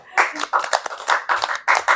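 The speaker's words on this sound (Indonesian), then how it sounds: "Keren loh, tepuk tangan loh." A few people clapping hands in short uneven bursts, close and fairly loud, with brief pauses between the rounds of claps.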